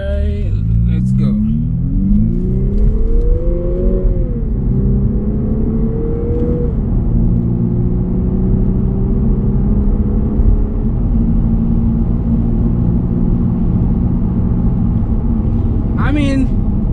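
A 2019 Lexus IS300 F-Sport pulls away in first gear in manual mode, its engine climbing in pitch through the revs before each upshift drops it back, several gear changes heard from inside the cabin; a brief voice breaks in near the end.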